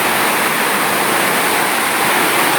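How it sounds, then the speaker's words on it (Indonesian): Underground river at Sendang Mawar inside Jatijajar cave, rushing water making a continuous loud, broadband roar like a small waterfall, steady and unbroken throughout. "Ada sungai di bawah tanah ya, ternyata benar juga ya kalau ada sungai di bawah tanah itu."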